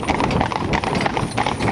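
Steady clip-clop of hooves from a five-horse driving team, a continuous rhythmic patter of many hoofbeats at close range with no talk over it.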